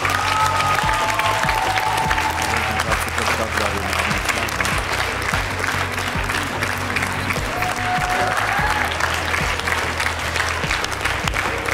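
X-Factor studio audience applauding a departing group during the four-chair challenge, loud sustained clapping and some cheering for the whole stretch, with faint music underneath.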